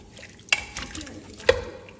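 A chicken stew with chicken and carrots is stirred in a pot, with two sharp clinks of the spoon against the metal and soft liquid sloshing between them.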